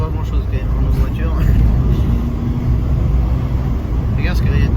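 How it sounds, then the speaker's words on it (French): Inside a moving car, a low rumbling road and engine drone runs continuously, with voices talking over it and occasional brief higher chirps breaking through. "ça fait vraiment beaucoup de bruit pour pas grand chose quand même dans nos voitures"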